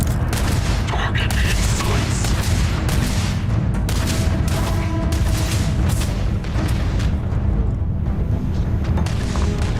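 Enemies shooting at the player in the space game Starfield, a loud, dense stream of booming shots and impacts layered over game music and effects, continuous for the whole stretch.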